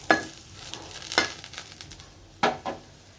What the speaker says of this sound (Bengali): আলু ভেন্ডি ভাজাটা হয়ে যাক তারপর ডাল বসিয়ে দেবো।